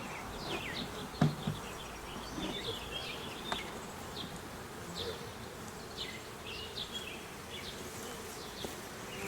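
Bee swarm buzzing around a newly placed hive box in a suburban yard: a dense, continuous drone of many insects close by, with occasional nearer passes and faint birdsong behind.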